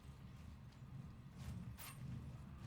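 A horse in the Mount and Blade Warband game with the Resurrection mod, out in the middle of a desert, with faint, steady hoof clip-clop and light mechanical creaks, quiet and with no voices.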